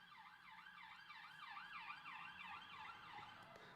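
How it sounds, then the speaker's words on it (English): Emergency vehicle siren outside, wailing in a regular rising-and-falling sweep over and over, steady and fairly loud from a distance with faint traffic beneath. "that siren's loud."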